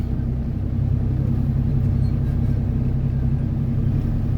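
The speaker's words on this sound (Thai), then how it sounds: "เอาแมคโครเดินไปขึ้นเทเลอร์ ข้างนอกนะครับ" A backhoe excavator drives out to be loaded onto a trailer, giving a loud, continuous low diesel rumble that stays steady and close throughout with no talk.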